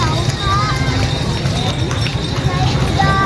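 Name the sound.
horse walking, hooves clip-clopping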